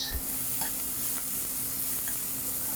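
Mushrooms and garlic sauté in a hot pan, a steady close sizzle with a few soft scrapes of stirring throughout.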